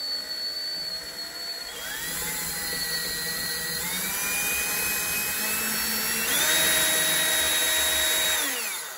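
A cordless power drill backs screws out of an interior door handle, a loud whirring motor whose pitch steps up and holds in several long runs, with a final higher surge before winding down.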